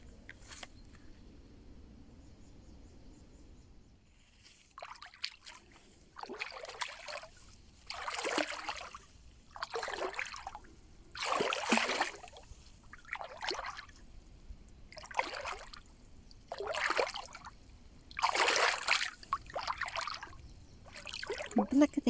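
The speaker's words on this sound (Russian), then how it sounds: "Благодарю тебя, водичка, за утреннее омовение, за то, что ты есть" Water poured out in repeated bursts for morning washing, about a dozen splashing pours at irregular intervals after a quiet start, close and fairly faint.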